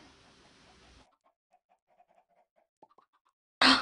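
Chickens in the Minecraft video game giving a series of faint, short clucks spaced irregularly over near silence, after a burst of noise and before a sudden loud noise at the end.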